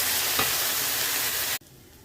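Spice paste of ginger, tomato, chilli, turmeric, cumin and salt frying in a pan for a tuna fish curry, a steady broadband sizzle with a brief stir, cutting off abruptly to near silence.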